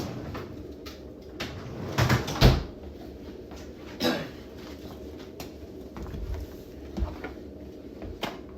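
Someone opens a freezer while building a Farmertec Hultz 372XP clone chainsaw, giving a few close clunks and a muffled door thump amid faint shop noise, with short gaps between the sounds.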